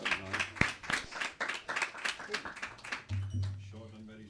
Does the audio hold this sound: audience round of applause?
yes